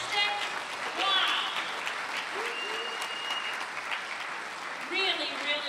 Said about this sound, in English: How about one more round of applause for the Gates Childlike Jazz Ensemble?